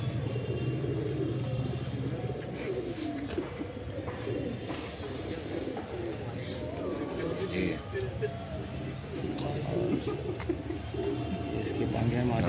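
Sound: Madrasi pigeons cooing

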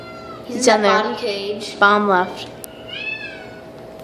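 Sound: tiny kitten meowing in a shelter cage

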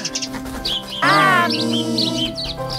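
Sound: baby bird chirping

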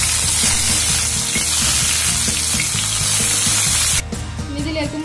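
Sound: ginger and garlic frying in hot oil in a pan

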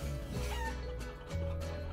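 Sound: chickens clucking in video game Guacamelee!

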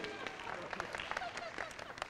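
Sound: audience applause for game show contestants

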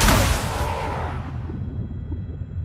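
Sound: missile volleys fired, from video game Elite Dangerous

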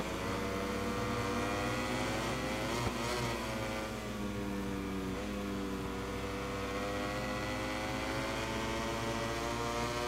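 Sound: Ducati motorcycle racing lap in video game MotoGP 21

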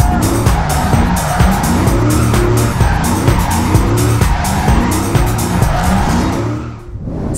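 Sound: car drifting with tire squeal

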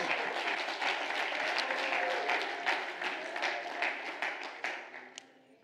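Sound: congregation clapping hands in church worship

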